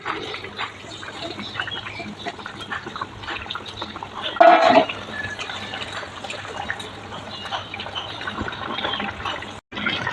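Mustard tilapia curry simmers in a pan in a home kitchen, a steady soft bubbling and watery hiss that runs throughout, with a brief louder burst midway.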